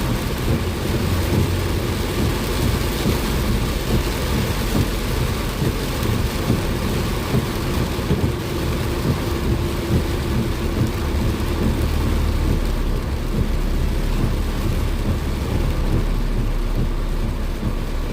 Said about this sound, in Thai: ฝนตกว่าจังนะพี่น้องเบิ่งฝน